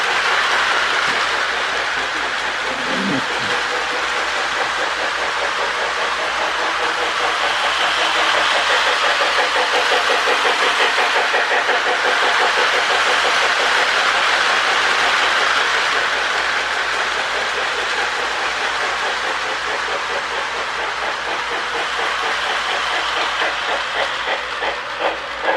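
A small Lionel 2029 model train rumbles and hisses steadily forward along a track, close and loud, with a continuous clattering whir that barely changes throughout.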